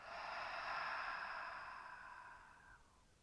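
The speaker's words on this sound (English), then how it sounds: "Deep breath out." A single long, breathy exhale during a yoga stretch, close and fairly loud, fading gradually over about three seconds with no talking.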